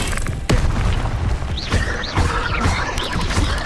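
Several sharp fiery bursts from the Incendio fire spell in Hogwarts Legacy, quick booming blasts with whooshing tails spaced a second or so apart.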